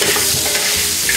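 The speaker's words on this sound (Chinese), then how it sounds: "来，把腊肉放下去，煸一下油。" Cured pork stir-frying in a hot wok, a loud, dense sizzle and crackle filling the whole moment with steady intensity and faint scraping of the stirring.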